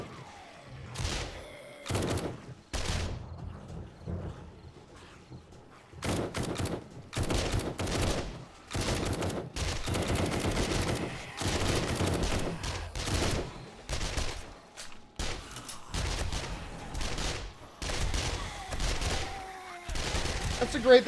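Bursts of SMG fire in 7 Days to Die (Alpha 20) at a crawling horde base, coming in repeated loud clusters of rapid shots with short pauses between them and a voice talking at times.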